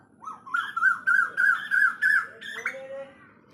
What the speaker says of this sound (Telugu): మళ్ళీ కోకిలండి, కోకిల చిన్నదన్నమాట